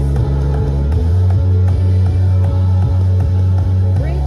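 A bass guitar plays a slow, heavy line of low sustained notes in a steady, half-time rhythm during a worship song bridge, loud and up front.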